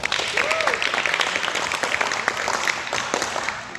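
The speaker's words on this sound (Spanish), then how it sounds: "Un aplauso a Reyes." An audience gives a round of applause for a dean, a steady mid-level patter of many hands lasting several seconds, with a brief voice-like tone near the start.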